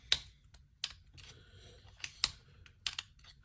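Fixed blade knife clicking in and out of its sheath, several sharp separate clicks and light snaps spaced irregularly over a few seconds, close and quiet with little else around.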